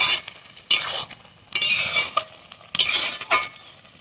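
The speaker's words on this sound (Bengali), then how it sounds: "আমি ভালোভাবে ঘেঁটে নেব" A spoon stirring broken-rice khud bhaat, a traditional Bengali village breakfast, in a pot. Four or five separate bursts of scraping and clinking against the metal come close and fairly loud, with short pauses between them.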